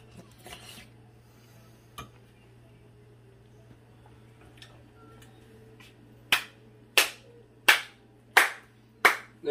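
A person claps slowly five times in a home kitchen, each clap loud and close with an even rhythm, after a few faint scattered clicks and clatters.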